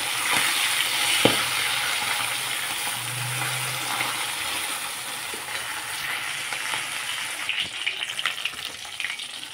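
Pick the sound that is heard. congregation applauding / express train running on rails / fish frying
fish frying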